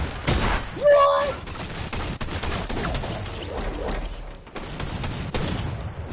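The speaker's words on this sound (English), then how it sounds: "Don't shoot the shotgun far away, bro." A shotgun fires a few sharp blasts amid a noisy background of voices and crowd chatter.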